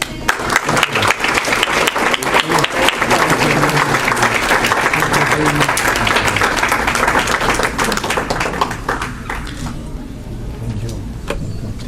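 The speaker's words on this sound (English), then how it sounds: "Our community members here applaud his service." Community members at an iftar dinner at Al Ihsan Islamic Center applaud in a dense, loud burst that gradually thins out toward the end, with some scattered voices mixed in.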